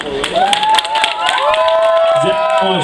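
Crowd applause and cheering for a team of local volunteers at an outdoor festival in Bakhmut, dense clapping sustained throughout with voices and tonal music or singing running over it.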